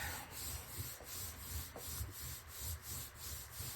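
A board being rubbed down by hand with a sanding pad or stick, giving steady rhythmic back-and-forth scrubbing strokes, close and moderately loud with no talking.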